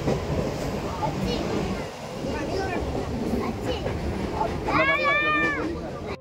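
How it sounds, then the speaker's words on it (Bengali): Mumbai local train in motion after leaving Nalasopara, a steady loud rumble and rattle of the carriage throughout, with people talking aboard and a brief high squeal or horn near the end. "আমরা কিন্তু ট্রেনে করেই যাচ্ছি।"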